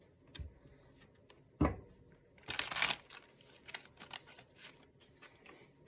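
Cosmic Slumber Tarot cards being shuffled by hand in small bursts: a few sharp riffles and crisp papery rustles separated by near-silent pauses, close and quiet.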